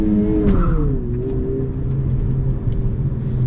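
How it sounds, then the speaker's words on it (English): A manual transmission car pulling away in first gear on a hill, with a loud close engine drone whose pitch falls and then settles into a steady low rumble, heard alone. "when I'm in first gear, let go of the brake and didn't roll backwards at all"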